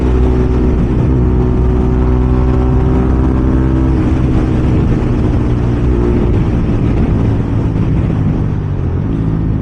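A Bajaj Pulsar NS200 motorcycle is ridden through light traffic, its engine and exhaust giving a loud, continuous droning hum that rises slightly in pitch in places, heard up close with wind noise and no talking.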